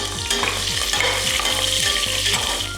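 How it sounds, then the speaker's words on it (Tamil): Onions and cashews sauté in a hot pan, giving a loud continuous sizzle broken by regular scraping strokes of a stirring spoon, with no voices. "வெங்காயம் முந்திரி பருப்போட வதங்கிறது ரொம்ப வாசனையாக இருக்குது."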